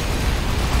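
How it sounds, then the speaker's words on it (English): A dense, continuous rumble of overlapping explosions fills the whole short stretch of the video game Risk of Rain 2, loud and steady, with no talking. "There's so many explosions going on right now"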